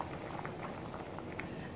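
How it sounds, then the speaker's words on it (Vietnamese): A pot of sweet mung bean and sweet potato soup bubbles at a boil, soft continuous bubbling and popping close up, fairly quiet. "khi nồi chè của chúng ta sôi nhé thì các bạn giảm bớt lửa cho mình"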